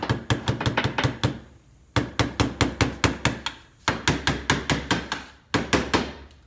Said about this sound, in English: And you're not going to hit the thing hard enough to hurt your carburetor. You're just going to gently tap it.